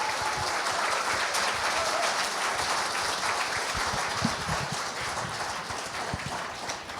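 Sustained audience applause after a mixed-voice popera group's celebratory performance at an award ceremony, a dense and even clatter of many hands that runs steady throughout and fades slightly toward the end.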